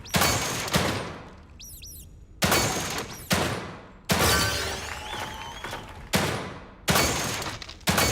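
Single loud gunshots from The Evil Within 2, seven or so sharp blasts spaced about a second apart, each with a ringing decay, and a brief mechanical squeak between two of the early shots.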